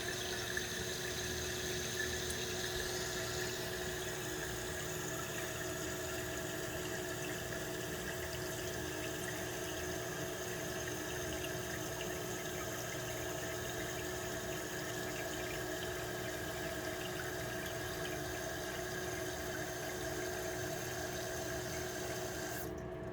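Steady rushing and hissing of water refilling a toilet tank through a newly replaced fill valve, continuous and even throughout, with a faint mechanical hum underneath and no voices.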